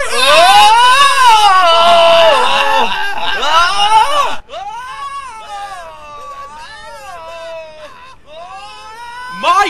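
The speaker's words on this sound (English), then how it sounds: "will you stop that mindless shrieking?" A loud, sustained shrieking scream with wavering pitch, followed by further strained, groaning cries that rise and fall over several seconds, close and dominant.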